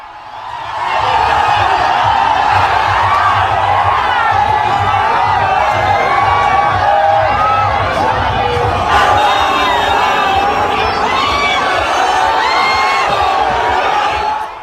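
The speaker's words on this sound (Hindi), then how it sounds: "देखिए जरा दूसरी तरफ भीड़" Large crowd at a Yogi Adityanath election rally in West Bengal, a loud continuous roar of cheering and shouting voices with whoops rising above the din, steady and close throughout.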